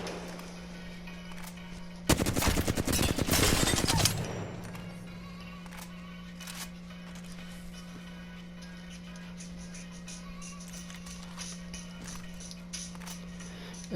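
Rapid burst of gunfire at practice dummies in Apex Legends, a dense two-second volley standing out loudly over a steady low hum, followed by a few faint scattered shots.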